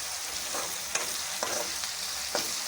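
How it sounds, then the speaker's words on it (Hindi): Ginger garlic paste frying with onions in a pan gives a quiet, steady sizzle, broken by a few soft clinks and scrapes of stirring. "अब इसको 1 मिनट तक फ्राई करेंगे।"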